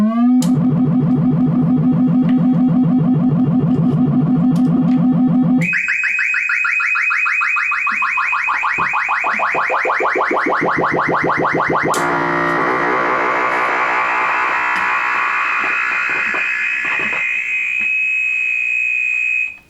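A synthesizer sweep modulation effect warbles continuously, shifting from a low buzzing drone to a bright, rapidly modulated high pitch, loud and alone.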